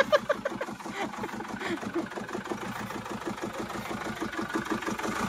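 A misfiring engine idles with an uneven, pulsing rhythm of low thumps, fairly close and steady throughout, while people talk faintly in the background.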